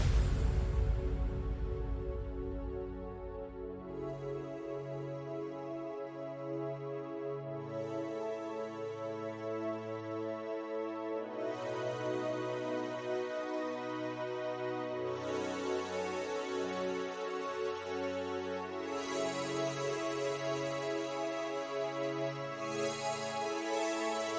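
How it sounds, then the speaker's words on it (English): A soft Spire and Nexus synth layer plays alone, sustained chords shifting every few seconds while the filter gradually opens and brightens, steady and fairly quiet throughout. "So for the synth sounds we have some Spire and Nexus layers."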